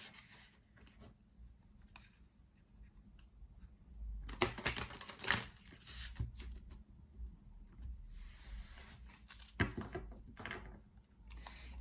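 A few bursts of crisp, papery tarot card shuffling, riffles and rubs coming in short clusters, with quiet handling noise in between.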